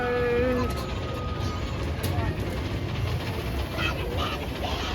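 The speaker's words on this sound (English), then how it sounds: "There's the railroad." A Disneyland Paris railroad train rolls past nearby with a steady rumble and faint clatter, while crowd chatter and park noise continue around it.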